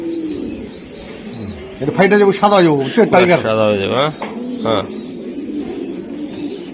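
Young club racing pigeons coo in bursts while being held at a sale, rising throaty calls close by, with people talking over and between them.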